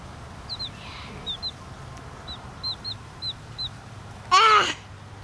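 Lost baby chicks peep in short, high chirps, spaced in small pairs and singles against a quiet background, followed near the end by a louder, harsher bird call.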